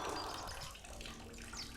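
Violent splashing of water down a well shaft, a dense gushing rush that is loud at first and then eases into a steadier churning, with no voices over it.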